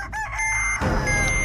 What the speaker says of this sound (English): Sounds like the chicken's in that door.